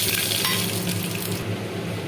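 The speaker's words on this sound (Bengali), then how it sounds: "এরপর সর্ষে ফোড়ন দিয়ে দিলাম।" Mustard seeds are tempered in hot oil after frying lentil badi for shukto, producing a dense, continuous sizzle and spattering crackle that stays loud and close throughout the short stretch.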